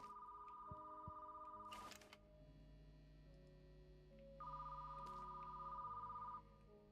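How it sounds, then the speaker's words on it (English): A telephone rings in the horror retail video game HELLMART, two electronic trilling bursts separated by a pause, steady and clear over a low droning game ambience. "I just gotta answer the phone"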